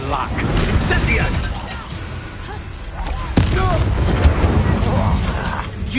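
An Incendio fire spell in Hogwarts Legacy roars out as a loud whooshing burst amid combat booms and impacts, with fiery crackling and voices talking over the battle.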